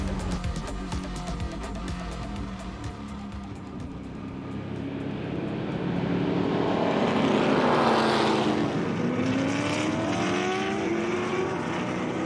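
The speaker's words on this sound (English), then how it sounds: "So the car's on their warm-up lap" Trans Am race cars on a warm-up lap at Brainerd, engines droning loudly and steadily, swelling as a car nears and sweeps past with a falling pitch, then trailing off into a continuing distant roar.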